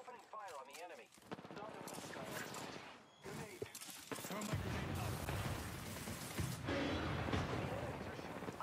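A frag grenade goes off midway through a busy Apex Legends firefight, a dull booming blast that leads into continuous gunfire and battle noise while voices talk over the game.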